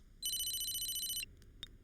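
A telephone rings with a bright electronic trill for about a second, loud and close, followed by a couple of faint short chirps.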